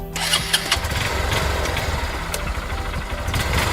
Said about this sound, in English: It is a motorcycle and it's a vehicle.